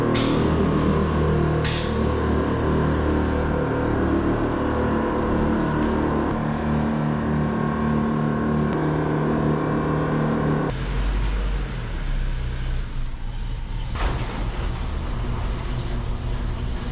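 A pickup truck rides down the road, its engine a steady loud drone under continuous road rumble, with a couple of sharp clicks and a deeper shift partway through.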